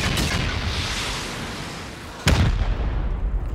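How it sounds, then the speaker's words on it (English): Rockets fire against a base during a raid in a survival video game, heard as a dense roaring blast with a sharp new explosion partway through, loud and close with no talk. "We'll send 8 rockets and see what it's looking like in the back."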